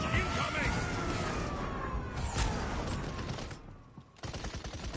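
A barrage ability in the Paladins video game fires a dense, sustained volley of blasts over roughly four seconds, then cuts off briefly before more game noise resumes. Under the barrage, a voice talks.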